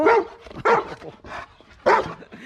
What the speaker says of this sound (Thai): ไปเห่าแล้ว